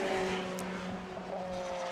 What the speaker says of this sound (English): I was distracted by Bradley John coming past the commentary box just now down the start-finish straight